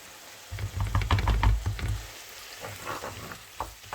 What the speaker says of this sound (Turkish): Birazcık salça kokusu çıkana kadar şöyle birazcık kavurayım.